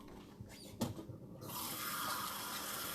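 Half a cup of water pours into a pot of turkey chili, a steady splashing rush that starts after a couple of faint clunks and runs on evenly to the end.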